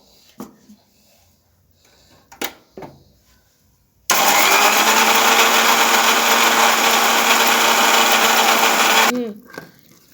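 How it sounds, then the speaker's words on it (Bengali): A kitchen blender grinds soaked aromatic rice for chitoi pitha, starting abruptly after a few soft knocks and running as a loud, steady whirring drone for about five seconds before cutting off and spinning down. "আমি এখানে চিনি আতপ চাল ভিজাই রাখছিলাম একদিন এক রাত। এটা আমি ব্লেন্ড"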